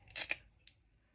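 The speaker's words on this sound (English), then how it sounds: "Just grab up my scissors." A couple of quick scissor snips close by, then a faint click, in a quiet room.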